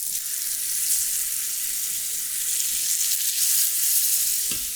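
Steak searing in clarified butter in a very hot pan gives a loud, steady, hissing sizzle that carries on without a break and with no one talking.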